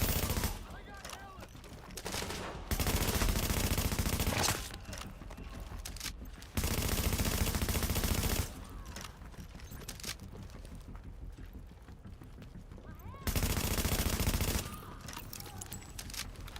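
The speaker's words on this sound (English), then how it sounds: "that's snipers" Bursts of sniper gunfire in a video game crack out in loud, repeated volleys of a few seconds each, separated by quieter stretches of battlefield ambience.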